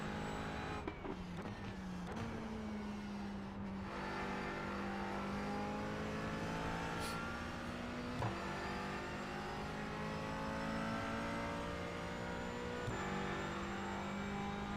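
Race car engines in the iRacing sim, running behind a Porsche: a steady, sustained engine drone holds at high revs, with small pitch shifts as gears change, and a few faint clicks and bumps.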